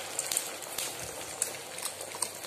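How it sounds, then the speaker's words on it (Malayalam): Beaten egg mixed with crushed Lays chips, pepper and salt hits a hot frying pan for a thick omelette, giving a steady soft sizzle and bubbling crackle with small pops throughout, fairly quiet and close, with no talking. "അതിലേക്ക് നമുക്ക് ഈ മുട്ട മിശ്രിതം ഒഴിച്ചു കൊടുക്കാം"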